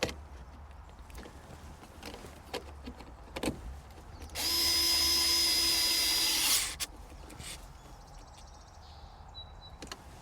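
A screw being driven in with a power driver while installing a double pillar gauge pod in a Subaru Sambar KS/KV: a single loud whirring burst of about two seconds amid quiet handling noises and small knocks.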